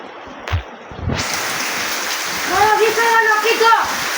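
Steady rain pouring down in a Gujarati village, a broad continuous hiss that swells in after a few thumps, with a person speaking over the downpour.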